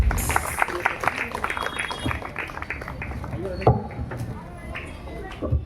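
An audience claps at a Christmas worship gathering to welcome a speaker, a patter of scattered hands under someone talking over a microphone.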